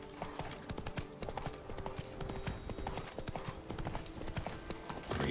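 Roach the horse galloping in The Witcher 3, a quick, regular clip-clop of hooves close up, pounding steadily throughout with game ambience behind.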